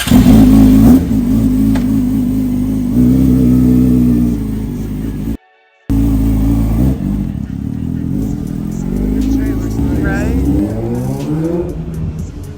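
A Yamaha R6 sport motorcycle with a fuel leak revs loudly up close in repeated bursts, with a brief cut in sound and rising engine tones toward the end.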